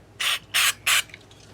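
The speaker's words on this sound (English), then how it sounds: "Now what I have is some of this CRC electronic cleaner. Spray a little bit of that in there." CRC electronic cleaner sprayed into a guitar potentiometer in three short, evenly spaced hissing bursts, each about a quarter second long, close and fairly loud against a quiet background.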